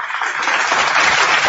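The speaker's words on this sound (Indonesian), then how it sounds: "Wah, tepuk tangan Yesus" Crowd applause at a religious discussion, a dense, steady wash of many hands clapping together that swells slightly and holds for about a second and a half with no talking over it.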